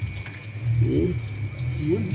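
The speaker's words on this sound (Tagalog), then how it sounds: "Ganyan lang ng pag-drain ng radiator eh. Tulo ngayon niya na malakas, oh." Coolant draining from the radiator of a Toyota Avanza during a flush, a steady close splashing and trickling stream of liquid with faint background noise throughout.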